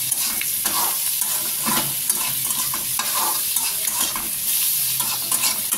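Vegetables frying in butter over a high flame, with a steady broadband sizzle running throughout and repeated stirring scrapes as the pan is worked, close and fairly loud.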